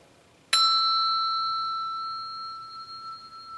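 A small handbell is struck once and damped, giving a sharp bright ding that rings on and gradually fades over a few seconds.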